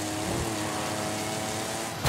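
A car engine in Forza Horizon 5 holds a steady, loud mid-pitched drone after an upshift, sustained throughout with a brief swell at the very end.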